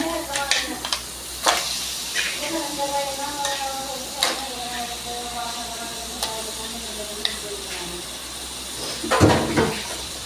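Crab being sautéed in a spicy masala in a pan, with scraping stirs, light ticks against the pan and a soft sizzle, close up over a faint tonal background.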